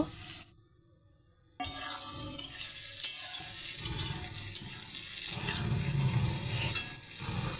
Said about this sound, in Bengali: এরকম ভাজা ভাজা করে নিব।